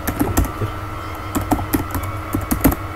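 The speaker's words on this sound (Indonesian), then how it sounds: "kita cukup ketikkan di sini" Quick, light clicks of typing on a computer keyboard come in irregular bursts over a faint hum, close by and with no voices.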